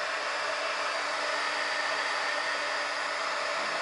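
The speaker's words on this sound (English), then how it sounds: "Okay, the gun's just starting to heat up" A heat gun blows with a steady, loud broadband rush of air that stays constant and unbroken throughout.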